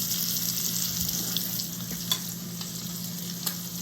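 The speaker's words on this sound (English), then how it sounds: "Go ahead and flip these steaks." Steaks sizzle steadily in a hot pan just after being flipped, a loud continuous frying hiss close by with scattered small pops and spatters.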